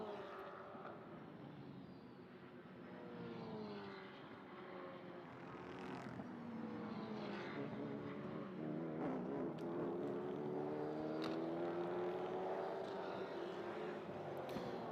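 A prototype race car passes during qualifying at the Magny-Cours circuit, its engine note rising and sweeping in pitch as it draws nearer and grows louder over about fifteen seconds, with a steady wash of background noise.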